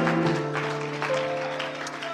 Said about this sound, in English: Can we give the Lord a hand clap of praise today?